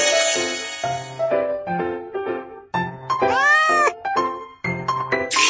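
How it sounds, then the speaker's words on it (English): A cat meows several times in a row, drawn-out and plaintive, some calls rising in pitch, close and loud. "Cat."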